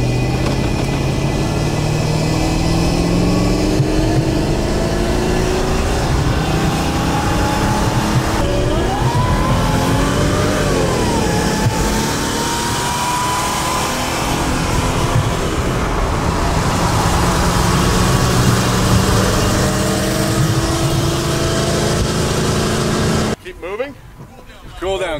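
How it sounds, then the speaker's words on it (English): A Mercedes ML55 AMG engine drones loudly while driving, rising and falling through revs under continuous road and wind noise, with a voice heard faintly, before cutting off abruptly near the end. "That, my friends, the sound of a Russian arm. ML55 AMG."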